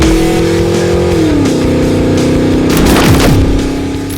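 A supercharged 5.4 2002 Ford F-150 Harley-Davidson pickup engine roars loudly as it accelerates, pitch dropping at a gear shift then climbing again, with a whining, strained tone.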